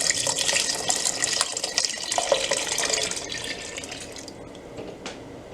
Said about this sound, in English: how much water you put into this will vary depending on the size of your pot